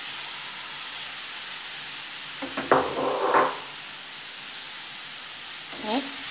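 Paneer and capsicum bhurji, seasoned with turmeric and Kashmiri chilli powder, fries in a pan with a steady close hiss. A few brief clinks and scrapes of stirring break through the sizzle.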